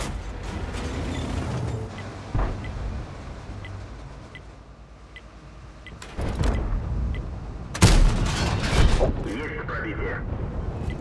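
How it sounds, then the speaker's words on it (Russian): Tank cannon shots in a tank video game such as World of Tanks, War Thunder or Armored Warfare: a few loud, sharp booming blasts with rumbling tails, set against a steady engine-like drone. "Переходим к выстрелам."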